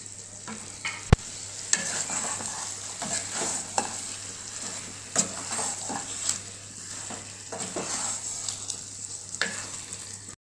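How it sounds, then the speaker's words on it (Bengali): Mutton sizzles in a pan as it is stir-fried dry with ground roasted spices, a steady frying hiss broken by regular scraping stirs of a spatula, close and fairly quiet. "মাটনটা কষবো আমি, আলাদা করে জল দেবো না।"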